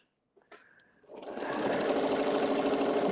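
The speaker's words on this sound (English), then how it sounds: "Then I'm stitching all the way down" A sewing machine stitches down a quilt, starting after a few soft handling clicks and then running steady, close and loud at a fast, even stitching rhythm to the end.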